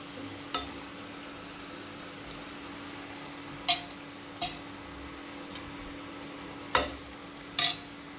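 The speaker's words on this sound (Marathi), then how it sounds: "आता मी सगळ्या अशा पुऱ्या तळून घेणार आहे." Puris deep-frying in hot oil for a festive meal, a quiet steady sizzle broken by several sharp clicks and scrapes from a slotted spoon stirring the pan.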